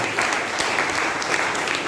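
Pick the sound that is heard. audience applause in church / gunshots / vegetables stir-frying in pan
audience applause in church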